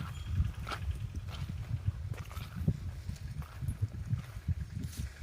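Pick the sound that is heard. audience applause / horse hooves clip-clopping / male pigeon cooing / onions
horse hooves clip-clopping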